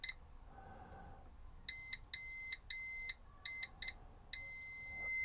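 A multimeter gives continuity-test beeps while probing an Acorn Archimedes A3000 board: several short, steady high electronic tones in irregular bursts, ending in a longer held beep, fairly faint over a quiet background.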